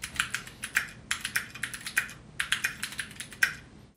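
Rapid, light clacking comes from typing on a Keychron Q2 65% mechanical keyboard with customizable switches and keycaps, played in bursts of keystrokes at a moderate, fairly close level.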